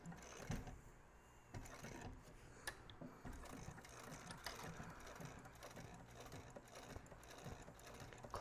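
A sewing machine stitches a leather accordion wallet, running close along the edge in a steady mechanical patter with short irregular bursts, moderately quiet and heard alone.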